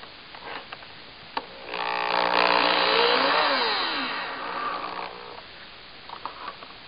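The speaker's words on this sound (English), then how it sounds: "now it's starting to tighten, and I can feel the screw turning and resisting" Power drill driving a screw into vinyl deck rail, a few seconds of rising then falling whine as the screw tightens, close and fairly loud, with quiet moments before and after.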